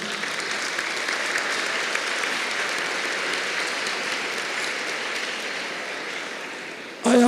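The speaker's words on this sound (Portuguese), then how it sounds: "Agora vocês estão aplaudindo e gaudindo, não é?" Lecture audience applauding steadily and loudly at the opening talk of a youth festival, a dense even wash of clapping that holds throughout before a brief voice breaks in at the very end.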